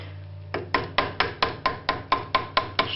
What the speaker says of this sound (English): Just got to hammer this